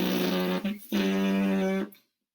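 Lips buzzing without a trumpet mouthpiece: two sustained, reedy buzzing tones, the first short and the second longer, with a brief gap between them, close and clear before silence.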